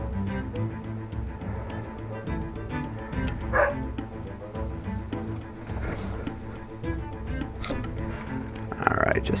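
A dog barks and yips in the background of a home where someone is playing a strategy game. The sounds come from off-mic as a few short bursts over game music.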